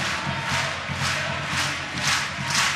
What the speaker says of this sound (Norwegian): Publikum veldig fornøyd i hvert fall